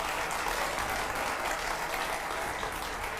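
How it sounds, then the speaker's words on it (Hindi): A studio audience at a televised political interview applauds, a dense, even wash of clapping that holds steady and loud throughout, with no talk over it. "जोरदार तालियां हो जाए।"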